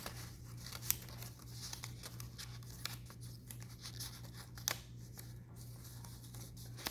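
Black-and-colored paper is folded and creased by hand into a sunflower shape, producing quiet crinkles, rustles and occasional sharp creasing snaps over a low steady hum, with no speech.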